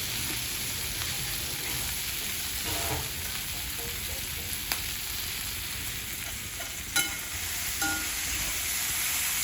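Ivy gourd stir-fried with masala in a wok gives a continuous sizzling hiss, broken by a few stirring scrapes and clicks, with no talking.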